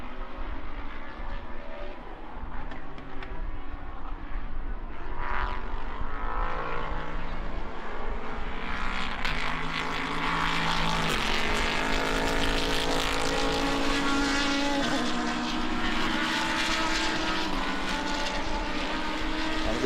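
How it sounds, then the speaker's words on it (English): GT race cars, among them a Lamborghini, race at Brno circuit, engines roaring steadily and loudly throughout as several cars pass close by, with no talk. "And Adam Konopka trying to trouble the Mechanik Motorsport Lambo"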